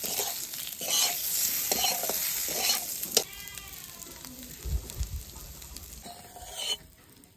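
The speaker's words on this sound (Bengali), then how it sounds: "এটাকে 2 থেকে 3 মিনিটের মতো ভেজে নেব।" Flattened rice (chira) with coriander leaves frying and being stirred in a pan, a steady close sizzle broken by repeated scraping stirs, without any talk.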